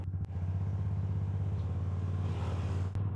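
A Cambodian bamboo train's motor drones steadily and loudly while it runs along the track, a constant low rumble with rattling, close up throughout.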